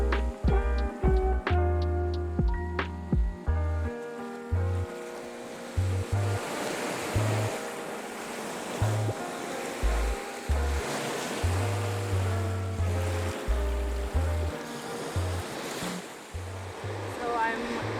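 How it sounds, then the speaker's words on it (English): Ocean waves break and wash on a beach beside a protected nature zone, a continuous surf rush heard throughout beneath prominent music. "watching the tide shift, watching the pattern of the waves"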